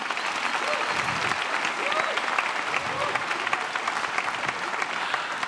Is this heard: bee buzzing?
no